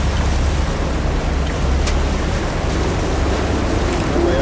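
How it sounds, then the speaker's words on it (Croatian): A catamaran's propeller churns water in a steady, loud, unbroken rumble with a whooshing wash and wind noise throughout, no voices. "čuješ propelu. Čuješ propelu."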